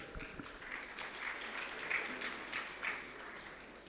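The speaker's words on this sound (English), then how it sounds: "Ladies and gentlemen, let's applaud for this great administration and ministry." A faint spread of scattered clapping from a railway conference audience, with a few sharper individual claps standing out above the softer patter of the crowd.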